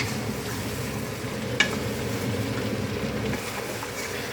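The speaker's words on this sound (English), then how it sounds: "Now give this a very quick fry in the pan." Pumpkin soup ingredients getting a quick fry in oil in a pan, a steady sizzle with stirring rumble and one sharp clack of a utensil, close and continuous without speech.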